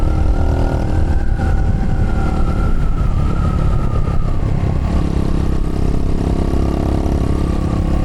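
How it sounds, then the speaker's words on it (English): A Chinese TT 250 motorcycle fitted with a new carburetor runs steadily up close, its engine droning loud and constant with slight pitch rises as the revs shift. "It's a decent running bike, and if you don't know, it's a Chinese bike. It's a TT 250."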